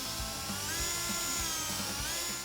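Handheld power drill spinning 800-grit sandpaper against oxidized paint on a 1994 Ford F-150, a fairly quiet high whine with rhythmic low bumps as the pad presses and lifts, without speech.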